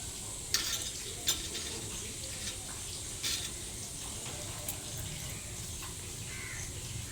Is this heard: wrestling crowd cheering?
no